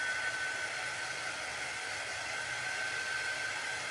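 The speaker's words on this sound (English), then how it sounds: "I think I'm gonna hit it with the dryer real quick because I don't want to smear what I've already done" A heat dryer blows onto shimmer chalk paste on a K&Co photo album, a loud, steady, unbroken whoosh of blowing air with a faint high whine that continues without a break.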